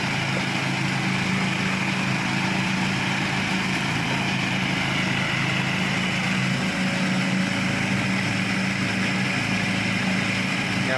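A Thai-built ride-on lawn mower running over rough ground, its engine giving a constant loud drone with a steady hum beneath, close and unbroken.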